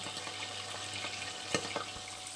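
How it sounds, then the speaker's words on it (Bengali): Pabda fish fries in hot oil in a pan with a lid held partly over it, giving a steady close sizzle with scattered sharp pops and crackles and no talking. "এক পিঠ একটু ভাজা হয়েছে, মিনিট খানেক দিয়েছি, এবার মাছটাকে উল্টে আরেকটা পিঠ ভেজে নেবো।"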